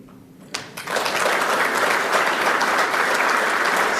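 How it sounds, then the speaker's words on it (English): Audience at a political speech breaks into loud, sustained applause that swells in suddenly after a quiet moment and holds as a thick, even roar of clapping. "Stop clapping for him."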